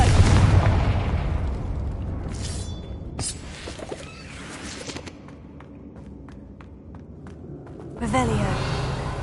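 A Confringo spell explosion erupts in Hogwarts Legacy as a heavy booming blast, followed by scattered crackles and a softer ambient lull, then another surge of noise near the end, with a voice heard over it.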